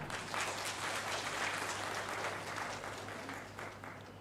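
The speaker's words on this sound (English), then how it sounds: "Give a good clap." Yoga participants clap together after a breathing and holding exercise, a soft, fairly even patter of many hands, faint and slightly distant, over a low steady hum.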